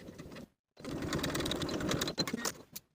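A sewing machine stitching a 5/8 inch seam allowance on a top's facing with backstitching, a brief whir, a pause, then a longer rapid run of needle clatter ending in a few uneven bursts.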